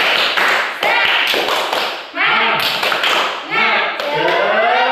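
A school class claps out the tepuk semangat spirit chant, bursts of sharp rhythmic hand claps alternating with children's shouting voices, loud and close in a classroom.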